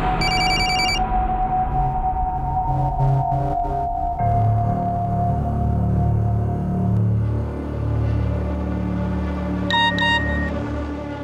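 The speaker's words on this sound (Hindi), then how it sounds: "प्लीज मेरा फोन पिकअप करो, अर्जेंट है।" A telephone rings urgently in a crime drama scene, sharp electronic ringtone bursts at the start and again near the end over a loud rumbling background.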